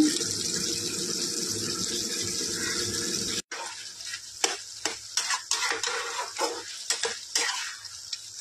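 A steady, close sizzle of frying gives way abruptly to a quieter simmer punctuated by splashes and trickling as a little warm water goes into the cooking pot with fish.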